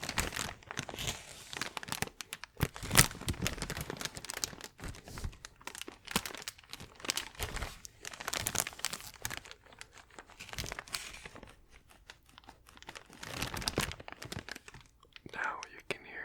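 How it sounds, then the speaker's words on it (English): Close, crisp crinkling of plastic packaging on a Hot Toys 501st Trooper action figure box, irregular bursts of crackling and rustling with quieter pauses between, with soft whispering. "Now you can hear the back crinkle on the left side and on the right side."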